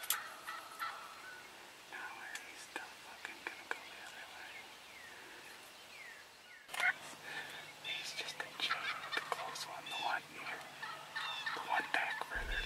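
Wild turkey toms gobble repeatedly at a distance during turkey hunting season, bursts of rattling calls scattered over quiet outdoor ambience, with faint whispering in between.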